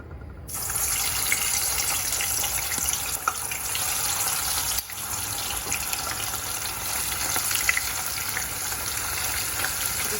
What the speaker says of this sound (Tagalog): let's begin to fry the pork belly